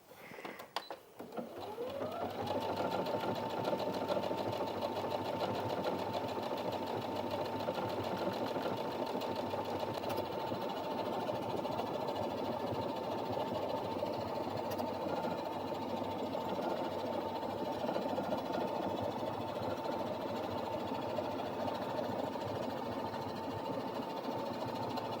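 A Brother Innov-is NV1350 sewing machine stitches out embroidery lettering, starting up and then running with a steady, rapid mechanical whir and needle rattle at close range for the whole stretch.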